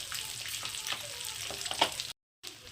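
Eggs fry on a hot tawa with a steady sizzling crackle and small pops, close and fairly quiet, and the sound cuts out briefly near the end.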